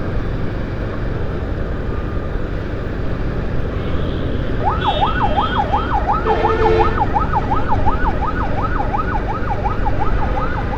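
An ambulance siren wails in a steady rising-and-falling cycle, coming up loud over constant road traffic noise in Tangail and holding close for several seconds.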